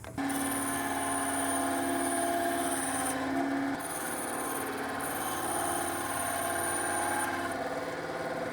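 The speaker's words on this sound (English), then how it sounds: "The most accurate way is to use my bandsaw with a fence, so I have it set with an 1/8 inch gap there, and I can just run these through." A bandsaw with a fence, set to an eighth-inch gap, cuts fins from EVA foam. Its steady whining hum holds through the whole stretch and shifts pitch slightly as the blade passes through the material. Close, with no talking.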